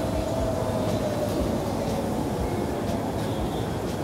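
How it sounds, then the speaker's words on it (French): Elevated train rumbling past overhead at a station in Japan, a loud, steady, close roar filling the whole stretch with a broad low drone and faint high squeals. "voilà un train qui passe en haut de moi comme ça"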